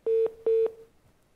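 Two identical short electronic beeps from a telephone line after a dropped call on a live broadcast, clean and evenly spaced, followed by quiet.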